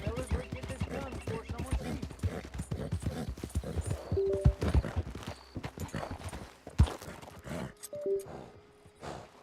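Horse hooves gallop in Red Dead Redemption 2, a rapid rhythmic clip-clop close and loud, with a short whinny-like tone and rider sounds breaking in midway, then slowing toward the end.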